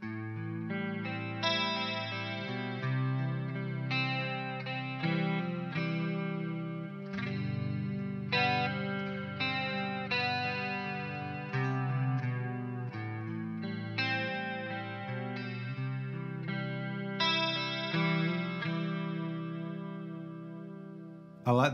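Electric guitar played through the NOVA GO SONIC's clean "Waves" preset, with shimmering chorus and echo-like modulation on sustained chords and melodic notes, steady and close for the whole stretch with no talking.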